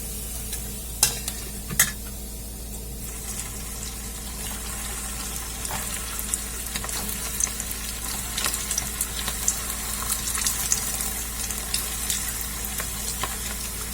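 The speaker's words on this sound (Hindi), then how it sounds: "इसी तरीके से मैं सारे बॉल्स को फ्राई कर लेती हूँ।" Malai kofta balls deep-fry in a kadhai of hot oil, making a soft continuous bubbling sizzle with scattered ladle clicks and stirring taps over a low steady hum.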